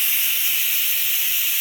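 Steam hisses steadily and loudly from a pressure cooker's release valve, a close, unbroken high-pitched rush with no talk over it.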